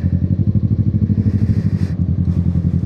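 Kawasaki Z650, a compact 650cc naked motorcycle, riding on a road with a steady low engine drone and rhythmic pulsing throughout, loud and close, with some wind and clatter over it.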